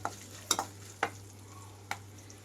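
Tempering seeds and turmeric fry in oil for ajwain rice, a low sizzle punctuated by a few crisp spoon taps and scrapes against the pan, close up with no voices.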